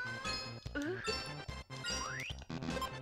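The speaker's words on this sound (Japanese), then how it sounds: "ピンポンパンポンいってるよ。" Bright chiming jingles and dings from the Magical Drop 2 puzzle game, a rapid series of tinkling tones and rising sweeps over a bouncy game tune.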